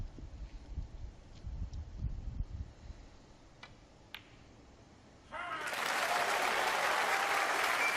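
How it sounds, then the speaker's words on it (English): Applause breaks out from the snooker crowd at the Masters after a well-potted ball in the Hawkins versus Walden match, a loud sustained clatter of clapping that swells after quiet commentary and continues to the end. "the crowd showing their appreciation"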